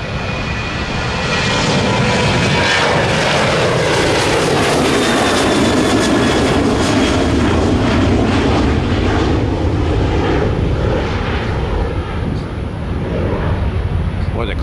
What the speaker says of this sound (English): The 737 from AA.